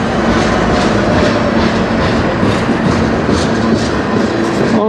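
A CN freight train's diesel locomotive winding down its engine, a steady loud rumble with rail clatter and rolling wagon noise throughout, close by and continuous.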